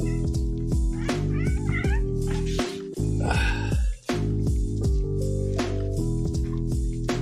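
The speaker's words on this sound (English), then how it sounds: "There's a cat behind my computer." A cat meows repeatedly from behind a computer, loud and close, its cries riding over rhythmic background music with a steady beat.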